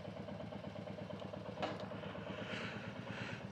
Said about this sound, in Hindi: इसमें अभी बाइक की आवाज देखनी है कि बाइक का आवाज कैसे आती है